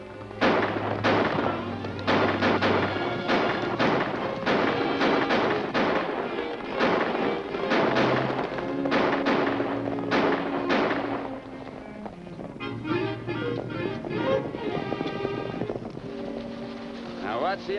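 Gunshots ring out in a 1946 Western film, with rapid repeated bangs over galloping hooves and dramatic orchestral music, loud and dense throughout.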